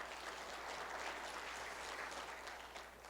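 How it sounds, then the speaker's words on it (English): A city hall audience at the Blue Springs State of the City event claps for a councilmember, a steady, even wash of applause from a crowd heard at a moderate distance with no voices over it. "give him a round of applause"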